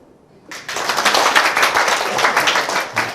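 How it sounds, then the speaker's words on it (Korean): An audience at a lecture bursts into dense, vigorous clapping after a short quiet moment, the many hands sustained and fairly loud until the end. "1번이 뭔가 봤더니, 박수치기야, 박수치기."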